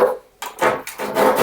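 A Wedi foam shower wall panel being cut down during a corner shower build, giving several close, rasping strokes separated by short pauses.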